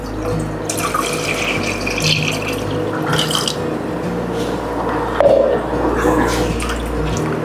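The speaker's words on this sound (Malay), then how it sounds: "kita tuangkan air pandan" Pandan water poured into a cooking pot with sugar and agar-agar powder for a dessert, a steady close splashing and gurgling pour lasting several seconds, loud and continuous with no talk.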